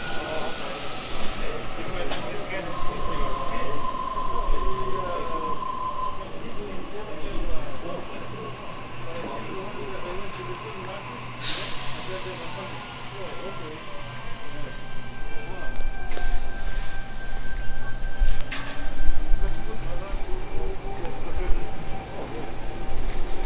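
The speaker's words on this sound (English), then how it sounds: "Tangara now departing in B8 Leppington service." A Sydney Tangara train departs the station at Redfern on a Leppington service, rumbling and hissing close by for a sustained stretch with brief high squeals and a rising roll. A voice talks over the train.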